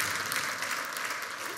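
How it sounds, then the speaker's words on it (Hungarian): Applause from an audience, a dense continuous patter of many hands clapping at steady volume. "Megérdemli a tapsot"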